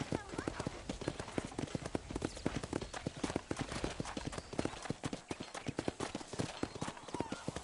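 Horses clip-clopping around a ranch corral in Red Dead Redemption, a dense, busy patter of hoofbeats that continues steadily and fairly close throughout.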